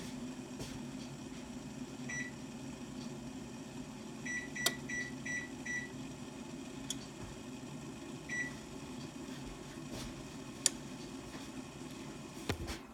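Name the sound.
kitchen timer running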